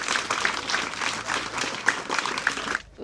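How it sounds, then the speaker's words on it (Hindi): Audience at a school prize distribution applauds to welcome a teacher, a brisk crowd clapping that fills the clip before cutting off near the end. "ज़ोरदार तालियों से आप लोग स्वागत कीजिए।"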